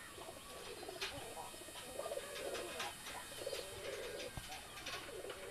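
Teddy pigeons at a pigeon market give soft, steady cooing and chirps that carry on without a break, mixed with a dense crowd murmur and market clatter.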